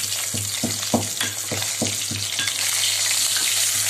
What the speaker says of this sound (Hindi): मछली फ्राई चल रहा है, अभी उसे पलट देंगे।